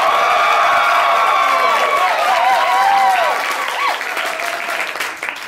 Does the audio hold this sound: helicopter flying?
no